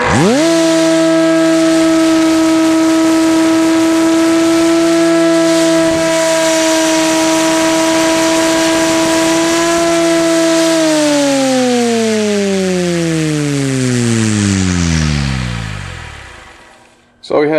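A 700-size RC helicopter tail rotor spins at about 9,000 RPM on stock blade bolts, giving a loud, steady whine that holds level, then drops in pitch and fades as it winds down.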